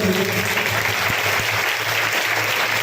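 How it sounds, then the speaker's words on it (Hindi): Church congregation at a twelfth-anniversary celebration applauding, steady dense clapping that fills the room loudly and continuously from start to end. "एक जोरदार ताली हो जाए मेरे यीशु के लिए।"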